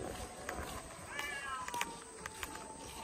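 An angry cat on a farm lets out a few drawn-out, wavering meows, faint and somewhat distant over steady background noise.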